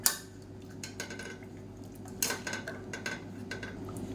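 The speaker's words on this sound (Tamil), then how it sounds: "இப்போ இதை வந்து நல்லா நம்ம மசிச்சு விட்டுக்கலாம்" Steamed tomato and cauliflower being mashed by hand for soup, giving soft, scattered knocks and scrapes of a utensil against a pot, with a few sharper taps over a low steady hum.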